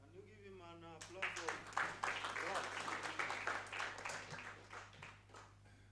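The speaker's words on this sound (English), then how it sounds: "So you have clapped for the presenter." An audience at a public consultative workshop in Nairobi on draft energy regulations breaks into a burst of clapping for a presenter, the applause rising over a speaking voice and continuing steadily throughout.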